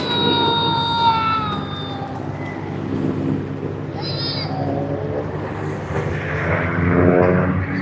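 Thai Airways Airbus A350-900 jet departing Sydney Airport, a steady, loud broadband engine roar that swells toward the end, with tonal whines drifting over it.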